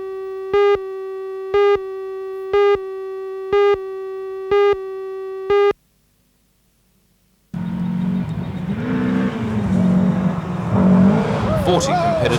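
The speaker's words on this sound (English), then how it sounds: "Competitors hit the dirt for this year's Matara Rally" Rally cars racing on dirt at the Matara Rally, run by the Newcastle Sporting Car Club in 1986, come in after a run of evenly spaced electronic beeps and a short silence, with a loud engine roar and a revving pitch sweep.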